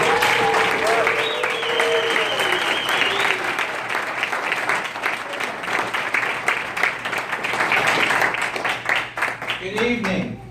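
Sustained applause from a large evening audience welcoming a company CEO on stage, steady dense clapping for about ten seconds with some crowd noise and a brief voice near the end.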